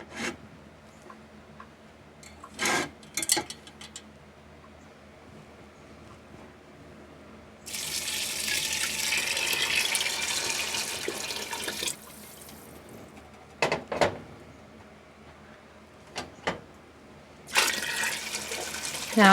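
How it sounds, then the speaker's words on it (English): Water pours from a pitcher into a big pot of dry beans for chili, a steady rushing splash for about four seconds, with another short pour near the end and a few clanks and handling knocks between. "today I'm just going to add water"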